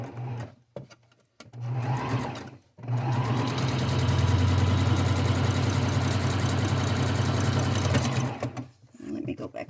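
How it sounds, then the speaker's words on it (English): A sewing machine runs a zigzag stitch through fabric in a steady, close whir, starting and stopping in short bursts before one long continuous run. "I am going to zigzag this because I don't have serger thread that color"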